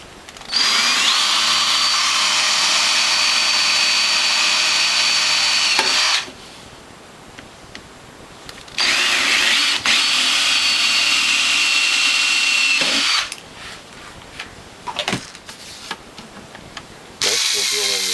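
Electric drill boring holes through sheet-metal base plate of a WHF or Norwalk juicer, two long whining bursts separated by quieter gaps with small handling noises.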